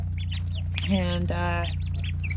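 A wild mother mallard duck calls out briefly, a single harsh call rising over steady low outdoor hum, with a person speaking close by.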